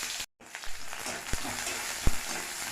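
Onions hit hot oil tempered with five-spice, producing a loud, steady sizzle close up, with a brief silent gap early on and a couple of sharp clacks of stirring against the pan.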